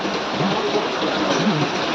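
Steady broadband hiss of rain falling, continuous and fairly loud, with faint muffled voices underneath.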